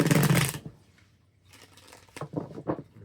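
Tarot cards are shuffled in a short burst of riffling, followed after a pause by quieter, scattered card flicks and slides, close and fairly soft with no talking.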